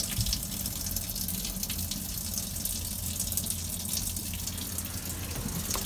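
Water gushes steadily while a Mercruiser 5.7L boat engine is flushed, a constant broadband rushing flow with faint dripping, even in level throughout with no talking.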